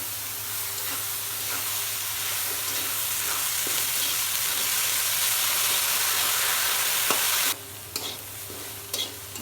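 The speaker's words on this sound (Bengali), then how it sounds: "পেঁয়াজ মরিচ ভাজা হয়ে গেছে, এবার আমি শাকটা ঢেলে দেব" Radish greens fry with onion and chillies in a pan, a dense steady hissing sizzle with stirring scrapes, then a sudden quieter stretch with a few clinks near the end.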